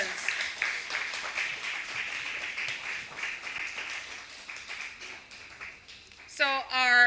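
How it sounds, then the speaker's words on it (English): An audience at a debate competition claps for the speakers, a steady patter of many hands that runs for several seconds before a voice begins talking over its tail end. "let's give them a round of applause"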